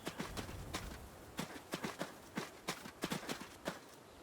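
Horse hooves clip-clop in a video game, about a dozen moderately loud, irregular footfalls on hard ground with no talking.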